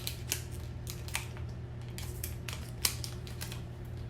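Scissors cut open a nail polish strip sample packet, a quiet series of small crisp snips repeating irregularly over a low steady background hum.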